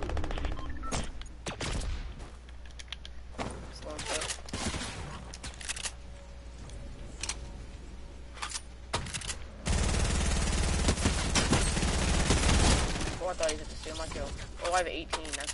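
Bursts of rapid gunfire ring out in a Fortnite match, short volleys scattered through the stretch with a heavier sustained spray near the end, while a player talks over it.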